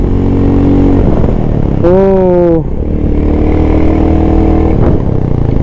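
A Royal Enfield Goan Classic 350 motorcycle engine runs loud and close for the whole stretch, with a brief rising rev burst partway through. A short exclamation is heard over the engine.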